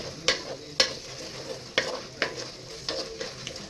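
Chicken frying in hot oil, stirred with a utensil: a steady soft sizzle broken by several sharp scraping clacks of the spoon against the pan at irregular intervals.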